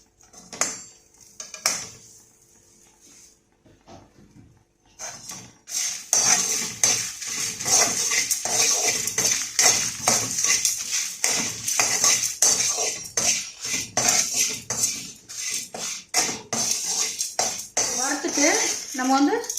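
Sesame seeds and spices dry-roasting in a pan for a curry-leaf podi rice dish, heard as busy, close clinking and scraping of a metal spoon against the pan after a quieter opening, with brief talk early on.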